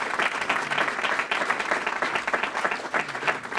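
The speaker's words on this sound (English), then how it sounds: "A round of applause" Audience at an award dinner for the Winslow Award applauding, dense continuous clapping from a sizable room that holds steady throughout.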